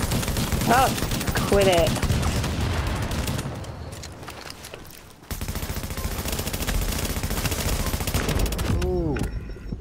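Dense, loud automatic gunfire fills a firefight in The Division's Dark Zone, with rapid bursts that dip briefly and then resume, while a player speaks over the shots.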